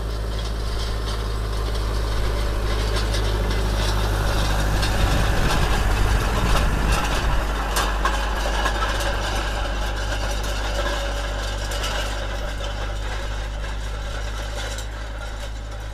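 A small tractor engine idles steadily and close by, a low constant rumble with a faint rattling hum over it, running unchanged throughout.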